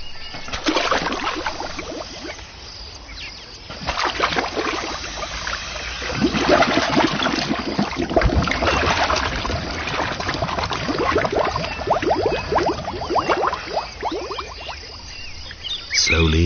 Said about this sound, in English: His water-slapping, bubble-blowing, and sounds too low for human ears make the water dance.